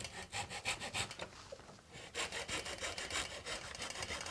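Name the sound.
sawing wood by hand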